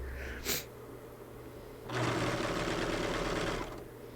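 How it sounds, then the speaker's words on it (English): A serger and sewing machine stitch trim around the hood edge of a pullover hoodie, a brief whir near the start followed by a steady, close motor run with rapid needle chatter for about two seconds. "This here is me putting that trim around the edge of the hood. Serge it on first, and then you'll see I'll bring it back over to the sewing machine"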